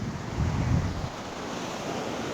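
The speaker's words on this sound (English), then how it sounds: "And as I walk around here in the waves, in the ocean," Ocean waves wash in a continuous roar with a swelling surge early on, mixed with gusty wind buffeting the microphone, and no speech.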